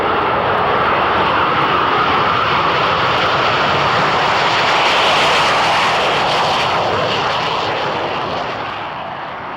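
A Gripen fighter jet with a single General Electric afterburning turbofan roars loud and close, a dense broadband rush that swells in the middle and then fades slightly toward the end.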